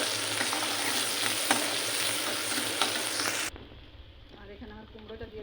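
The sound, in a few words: garlic and onion frying in oil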